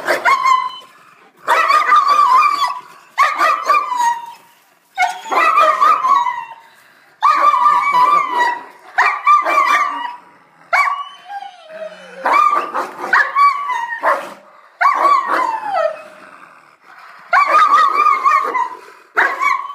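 German Shepherd dogs fight loudly and close up, a run of repeated bursts of barking, snarling and yipping broken by short pauses, with a person's voice now and then.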